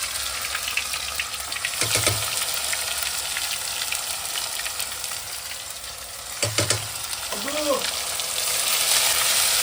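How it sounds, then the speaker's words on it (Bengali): Onion paste frying in hot oil, a loud, steady sizzle and hiss throughout, with brief voices speaking over it twice. "পেঁয়াজ বাটা দিয়ে দিচ্ছি"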